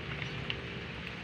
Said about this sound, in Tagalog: ito ipakita ko sa inyo ang ulan. Ulan ito,